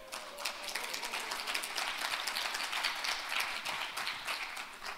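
An audience at a finance conference claps steadily for several seconds, a dense crowd applause filling the room at moderate loudness.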